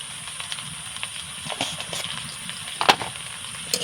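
Okra fries in a pan with salt, turmeric and cumin for a taro and egg curry, giving a soft, continuous hiss with scattered small crackles and an occasional sharper spit.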